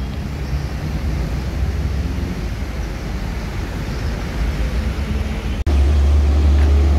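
ALS bus number 187 on a Medan–Jember run, loaded with motorcycles on top: a loud, continuous low engine roar with a heavy rumble that holds steady, then cuts briefly and comes back deeper and louder, with no voices.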